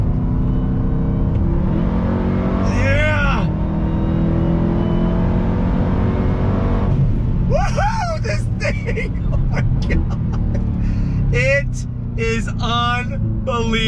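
A 2021 Dodge Durango Hellcat SUV engine rises and falls in loud revving surges while accelerating, its pitch sweeping upward through the gears, with a voice talking over parts of it.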